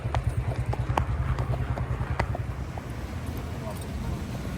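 Horses' hooves clip-clop in a steady rhythm on a road during an evening ride after dark, close and continuous, with wind buffeting the microphone throughout.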